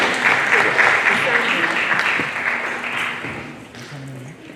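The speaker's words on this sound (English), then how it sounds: "I want you to give yourselves a round of applause" A room of ninth graders at an induction ceremony gives itself a round of applause, steady and fairly close, fading slightly toward the end, with a few voices audible beneath the clapping.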